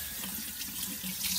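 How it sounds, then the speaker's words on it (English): Tap water runs steadily into a sink over freshly rinsed eggs, a continuous close splashing stream with no voices. "just run the water over the top of the eggs, rinsing them off"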